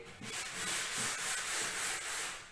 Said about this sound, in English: 240 mesh pad and just give it a light key.